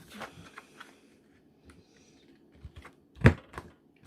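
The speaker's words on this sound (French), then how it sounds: "j'ai le petit outil là de chez Action pour arrondir les angles, faire des enveloppes" A small corner rounder punch from Action trims the corners of paper for crafting, making a few sparse, close clicks and light taps, with one sharp louder snap of the punch near the end.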